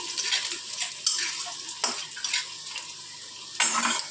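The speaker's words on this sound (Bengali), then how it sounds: "তেলের মধ্যে আমরা দেবো রসুন কুচি। রসুন কুচি দিয়ে ভালো করে আমরা নেড়ে নিচ্ছি।" Chopped garlic fries in oil with a bright close sizzle, cut by several sharp scraping stirs of a utensil against the pan, no talking.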